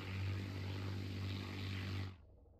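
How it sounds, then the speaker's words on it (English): A propeller warplane's engine in the Battle of Britain dogfighting game Scramble: Battle of Britain drones steadily and loudly as the plane goes down, then cuts out abruptly near the end. "as the plane is crashing"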